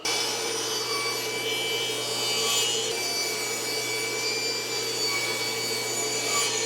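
A table saw cuts through wood, its steady whirring drone joined by a rough, rasping bite from the blade, close and loud throughout with no talk.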